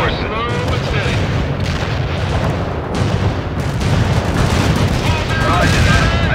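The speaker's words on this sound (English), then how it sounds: "Napalm strike in target area completed" Napalm strike in the World in Conflict video game during the Battle of Pine Creek, heard as a dense, continuous roar of fiery explosions and low rumbling booms that persists throughout, with faint radio-style voice chatter mixed in.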